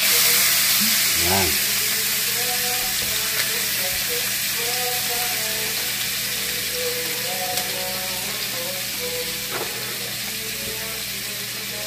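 Annatto powder sizzles in hot butter in a pan, a steady crackling hiss from start to finish with occasional stirring clinks and a brief word spoken over it.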